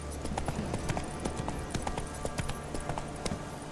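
A horse in The Witcher 3 trots with quick, even clip-clop hoofbeats that repeat steadily throughout, near and moderately loud over a low ambient game backdrop.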